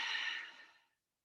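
A single long exhale, like a breath out held during a standing lunge stretch for the hip flexor in a home workout, fairly close and soft, fading out over about a second, then silence.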